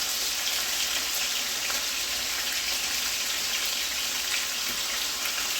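Garlic-crusted lamb chops fry in a hot pan with a dense, steady sizzle and crackle, close and unbroken throughout, with no voices over it.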